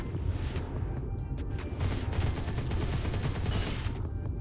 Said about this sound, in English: Let's try with the assault rifle.